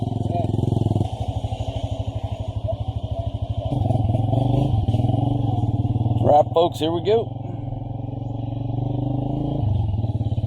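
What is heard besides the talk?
motorcycles riding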